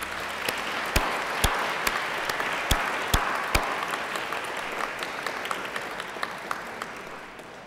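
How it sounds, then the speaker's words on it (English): A graduation ceremony audience at Macquarie University claps steadily in sustained applause, dense and even throughout, with a few sharper nearby claps standing out. "I invite you to give them a mighty round of applause for their help and support."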